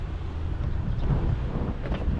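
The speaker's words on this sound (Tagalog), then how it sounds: "Maaraw at medyo mahangin." Steady wind buffets the microphone with a constant low rumble on a sunny day at Snoopy Island, Fujairah, UAE, loud and continuous throughout, with no voices.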